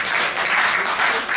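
Steady applause from a crowd, dense clapping at an even loudness throughout with no break.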